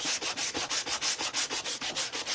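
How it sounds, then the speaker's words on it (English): Hand sanding of wood: quick, steady back-and-forth rasping strokes, about a dozen in a row, close and fairly loud, with no talking. "I'm just sanding mine because it's got green on it"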